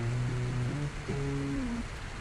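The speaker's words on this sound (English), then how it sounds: "The first guitar part that we have here is just the rhythm guitar that starts out the song." Clean rhythm guitar part that opens the song, heard alone from the mix as sustained chords that change a few times and ring steadily, with no one talking.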